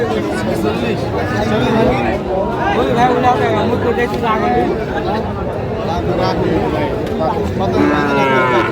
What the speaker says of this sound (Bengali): শাহিওয়ালের বাচ্চা গরু আছে